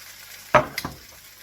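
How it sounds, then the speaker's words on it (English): Mushrooms, onion and sun-dried tomato drop into a hot, lightly greased pan with one sudden loud hiss, followed by a couple of quick stirring clicks and a soft sizzle that fades. "I have this hot pan with a bit of grease in it, I'm going to add the mushrooms, the onion, the sun-dried tomato"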